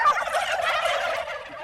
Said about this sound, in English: Right behind me, there's about 225 turkeys